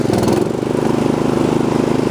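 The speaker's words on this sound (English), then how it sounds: "And the blades engage right around here for the actual engagement of the blades" A Craftsman R110 riding lawn mower runs steadily with its cutting blades engaged, a loud, close, continuous engine drone with a fast, even pulsing throb throughout.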